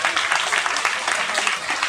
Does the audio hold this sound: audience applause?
yes